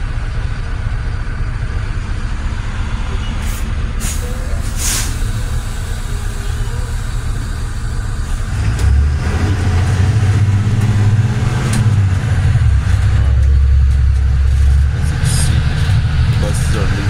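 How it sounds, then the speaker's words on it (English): Heavy Mercedes-Benz MBE906 and MBE926 diesel bus engines rumble and build as school buses pull away, a low droning growl rising in the second half with outdoor noise around it. "Buses are leaving school."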